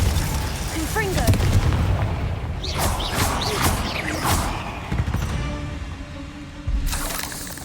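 A Confringo fire spell in Hogwarts Legacy bursts into booming, crackling blasts amid a fight with a giant spider, layered over game music and other spell effects, loud and dense throughout.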